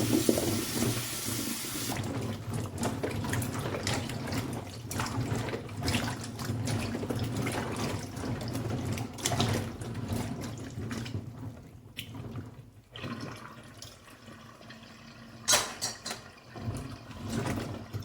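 Walnuts being washed under a running tap at a kitchen sink, with a steady stream of water and splashing as the nuts are rinsed close by, then a brief pause and some drips near the end.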